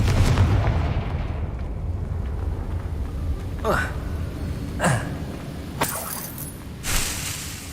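Confringo explosive spell in Hogwarts Legacy, a few sharp cracking blasts spaced about a second apart over a rumbling game background, with a voice talking at the start.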